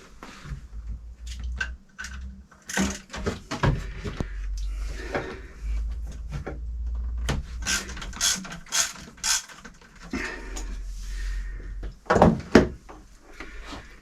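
Wrench work on the fan belt bolt of a Westerbeke sailboat engine in a cramped engine compartment: intermittent ratcheting clicks, metallic knocks and clunks over a low hum, close and uneven.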